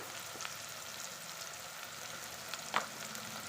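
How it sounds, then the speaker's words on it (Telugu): Ginger garlic paste frying with onions in hot oil in a pan while cooking a Telugu tripe curry, a steady soft sizzle with a faint stir or scrape near the end. "ఈ అల్లం పేస్ట్ కూడా బాగా ఫ్రై చేసేసుకోవాలి పచ్చి వాసన లేకుండా చక్కగా ఫ్రై చేసేసుకోవాలి"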